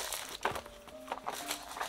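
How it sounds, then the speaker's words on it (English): Plastic wrapping crinkles and crackles as it is pulled off a box of Cray-Pas oil pastels, quick close rustling bursts in an irregular rhythm, fairly quiet and with no talk. "Let's go ahead and unwrap this."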